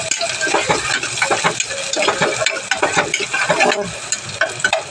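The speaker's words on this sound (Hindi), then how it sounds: "कांदा भी डालेंगे और इसको भी हम भूनेंगे। कड़ी पत्ता भी डालेंगे" Onions and curry leaves stir-fried in a pan while making dal, giving a steady sizzle with repeated scraping and clinking of a spoon against the pan throughout.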